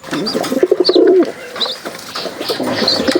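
Rajshahi Giribaz pigeons cooing in low, throaty rolling calls, repeated steadily and close by, with faint chirps and rustling mixed in.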